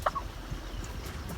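Turkeys on a farm at feeding time give a short gobble and clucking calls over low outdoor background noise, brief and moderately close.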